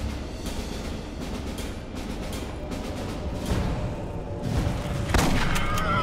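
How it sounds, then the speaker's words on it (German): Booming gunfire in the game Aliens: Colonial Marines crackles over a constant noisy battle background, with a few louder shots standing out toward the end. "Da schießt jemand, schau mal."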